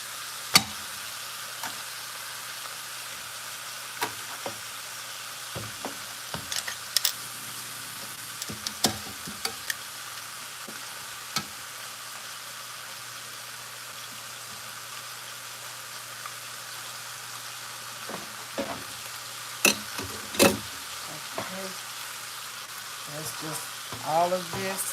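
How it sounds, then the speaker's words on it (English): Beef neck bones fry in a pan with a quiet, steady sizzle, broken by occasional clinks and stirring sounds, faint and close, with some speech in the background. "Y'all hear that sizzle?"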